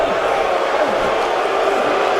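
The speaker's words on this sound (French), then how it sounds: "Rey Mysterio qui se prendra la plus grosse huée de sa carrière" Large WWE Royal Rumble arena crowd booing Rey Mysterio as the thirtieth and final entrant, a dense, sustained roar of jeers and whistles filling the hall without pause.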